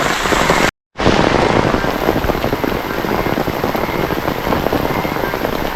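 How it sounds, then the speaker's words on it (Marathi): Heavy rain pours down in a dense, steady hiss, briefly cut to silence near the start, then drumming on without pause. "पावसाचा जोर भरपूर वाढलाय"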